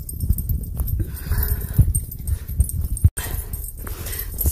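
A dog on a leash moves along a hiking trail, its close breathing and shuffling footsteps forming a low, uneven rustle with no talking.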